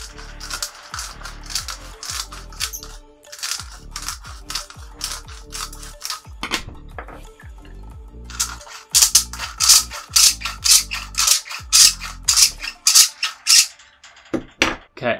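A PETG or acrylic hardline water-cooling tube is cut with a ratcheting cutter, giving repeated rhythmic clicks and crunches. It is close and loud, and the strokes grow sharper and quicker toward the end, with no talk.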